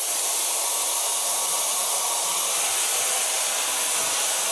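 A hair dryer fitted with a diffuser attachment drying curly hair gives a steady, loud, unbroken rushing blow of air, close by and constant throughout.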